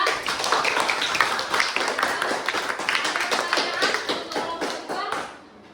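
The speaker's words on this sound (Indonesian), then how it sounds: "Oke, tepuk tangan untuk kelompok 2." A classroom group applauds a team of students, with many hands clapping in a quick, uneven patter for about five seconds before it dies away.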